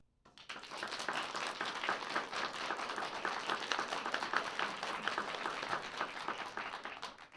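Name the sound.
audience clapping to vote in a debate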